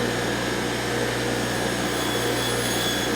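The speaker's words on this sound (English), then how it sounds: "It's brass, so it grinds very fast, and it'll also get hot very quick" Continuous loud grinding whine as a brass motorcycle cable part is ground, a steady unbroken tool drone throughout with no speech.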